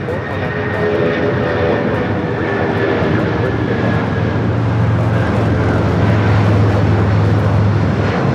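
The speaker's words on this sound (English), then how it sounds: "This is United Airlines 1700 going back to New York on a 25-year-old Boeing 757." A 25-year-old United Airlines Boeing 757 taxiing at LAX, a steady loud engine roar with a low rumbling hum that grows slightly heavier toward the end, close by and continuous with no talk.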